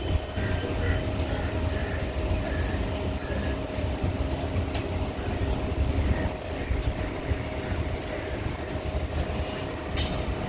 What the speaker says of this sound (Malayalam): ഈ പാലത്തിൻ്റെ ഓപ്പോസിറ്റുള്ള പാലത്തെ കൂടി വേറൊരു ട്രെയിൻ പോകുന്ന ഒരു കാഴ്ചയാണിത്